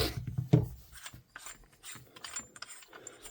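A C-wrench turns the barrel nut of an airsoft VMP rifle, giving a close, rough metallic grinding and ratcheting scrape in uneven bursts, loudest at the start and easing into lighter rasping turns.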